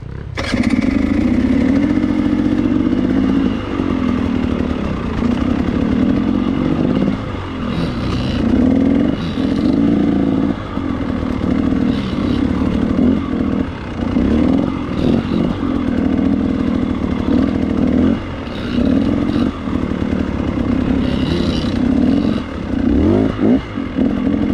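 Dirt bike engines run loud and steady on a mountain trail on the Uncompahgre Plateau, droning continuously with repeated surges of revving and throttle changes throughout.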